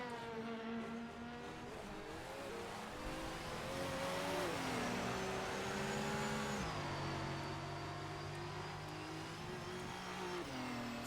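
Audi and Nissan Le Mans prototype race cars in rFactor 2 slipstream down the Mulsanne straight toward a chicane, engines droning loud and continuous with rising and falling pitch through gear changes.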